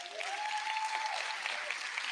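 Audience applause at MEX Talks 2023, a full, even crowd clapping sustained across the whole stretch, close and fairly loud, with a faint tone briefly audible beneath it.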